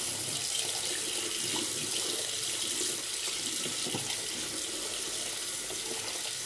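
Hot water runs from a sink tap to wet a bar of soap. The stream sounds steady and close, a continuous hiss-like rush for several seconds with no voices.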